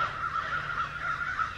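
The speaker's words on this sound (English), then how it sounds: "I can see some of the crows" Crows caw repeatedly in a steady, rhythmic series outdoors on a farm, calls sounding from a short distance with continuous ambient background.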